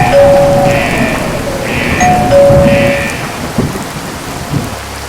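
Heavy rain pours steadily with low rumbling thunder underneath, loud and continuous, with a few brief tonal chimes over the downpour.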